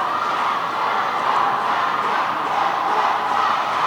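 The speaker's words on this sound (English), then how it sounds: "Australia cheering on their teammate." Australian team cheering on a teammate at a dodgeball world championship match: a steady, loud crowd roar with no breaks, blended voices filling the hall throughout.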